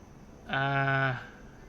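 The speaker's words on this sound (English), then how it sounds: "Why the hell is there a sheep just waddling super fast by?" A sheep in Final Fantasy XIV lets out a single clear, drawn-out bleat of a little under a second, loud and alone against a quiet game background.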